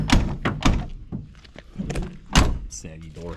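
The door of a 1969 Dodge Coronet 500 with saggy hinges shuts with a single solid thud while someone talks over it.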